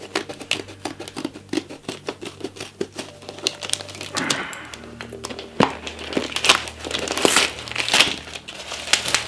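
A parcel covered in stamps is cut open by hand, giving close, irregular crinkling, scraping and snipping noises with brief crisp bursts of packaging rustle throughout.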